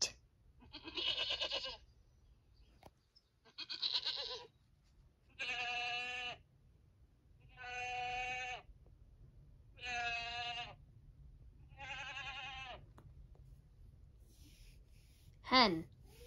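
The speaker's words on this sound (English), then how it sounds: "Goat." A goat bleats six times in steady succession, each call wavering and about a second long, close by, ending with a brief sharp squeak.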